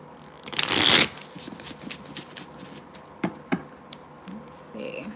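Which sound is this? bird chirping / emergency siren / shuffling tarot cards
shuffling tarot cards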